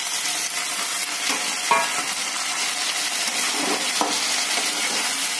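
Onions and tomatoes frying in a pan for a chicken dish: loud, dense, steady sizzling up close, with a couple of brief stirring scrapes and no voices.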